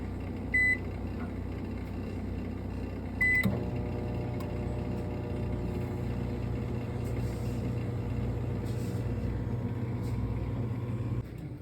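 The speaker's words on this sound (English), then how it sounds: "I'm going to pop it in the microwave and I'm going to put it on 4." A microwave oven runs steadily while heating a bowl of oatmeal, a constant low electrical hum with a couple of short beeps near the start, continuing alone and fairly close throughout.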